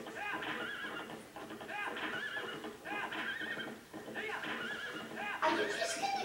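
Horse riding in the video game Zelda Twilight Princess, with repeated loud whinnies and neighs over clip-clopping hooves and a brighter sound effect at the end; a person talks over it.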